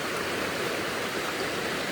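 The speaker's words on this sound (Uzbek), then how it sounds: "soy o'tgan, suv sharilab oqib turadi." A stream flowing beside a mountain dacha, a steady close rush of water with no breaks, brief and undisturbed by voices.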